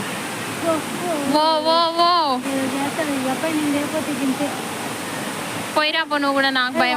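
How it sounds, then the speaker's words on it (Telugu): Rampa waterfall pours in a steady, full rushing roar that fills the whole stretch, while people talk and call out over the constant water noise. "ఇది రంప వాటర్ ఫాల్స్ అనమాట."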